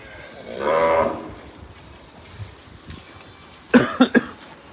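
At a cow shelter (panjrapole gaushala), a cow gives one long, loud, close moo, then a short burst of rough grunting lows a few seconds later, with quiet background noise in between.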